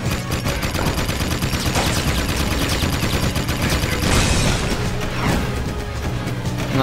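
Rapid gunfire from guards in the video game Jak II Renegade, dense and continuous bursts with crashing impacts layered over game music throughout.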